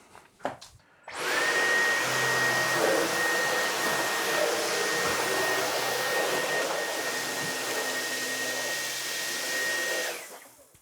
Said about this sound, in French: il est efficace, ce nouvel aspirateur